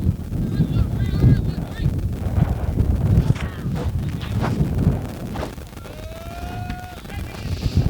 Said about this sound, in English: Wind's blowing around some of my folders and paperwork